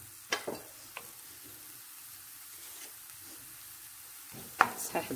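Onions cooking in a pan are stirred now and then, sharp scraping strokes at the start and near the end over a quiet, faint sizzle.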